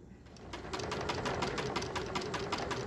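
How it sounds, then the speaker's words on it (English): A sewing machine runs steadily, stitching a ribbing neckline binding with a fast, even rhythmic clatter that continues close by throughout, with no talk. "I'm gonna do a quick back stitch."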